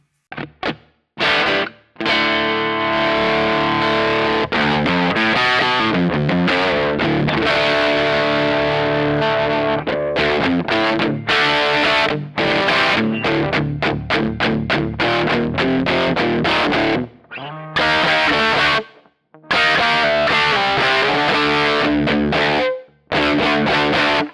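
Electric guitar through a Kemper Profiler profile drenched in heavy fuzz distortion, loud and continuous with brief gaps between phrases, no talking.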